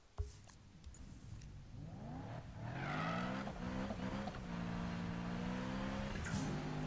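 Game car engine in Need for Speed on Xbox, revving and accelerating through rising harmonic sweeps during a drift race, loud and close, with brief tire squeal and no talk.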